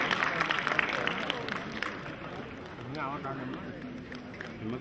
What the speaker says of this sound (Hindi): सभी ताली बजाकर उनका स्वागत करेंगे।